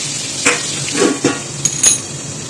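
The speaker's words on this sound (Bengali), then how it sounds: "সেই মাছগুলো আমরা ভেজে নেবো," Pieces of Bhola fish fry in oil in a pan, a close crackling sizzle punctuated by a few sharp utensil knocks and scrapes, with no talking.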